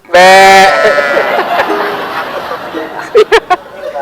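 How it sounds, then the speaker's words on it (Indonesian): A loud, close bleat rings out from goats and sheep, followed by softer animal calls and a few short bleats, with a voice murmuring in the background. "Ada suara ayam, ada suara kambing, domba."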